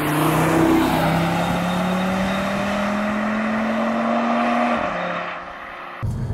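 A 2022 Audi RS3 sedan with its 400 hp five-cylinder engine pulling under load in sixth gear, a loud, steady droning growl from inside the car whose pitch climbs slowly before dropping away near the end.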